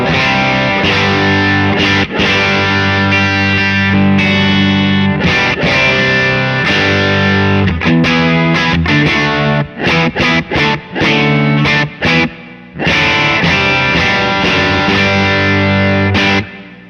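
An electric guitar plays through a Matchless amp with no drive pedal and added reverb, chords ringing loud and close in a rhythmic, strummed pattern with brief choked pauses near the end.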